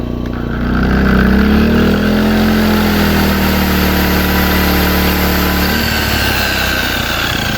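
A 2 kW inverter generator runs steadily and loudly close by, its engine hum shifting in pitch as the load changes, with no voices over it.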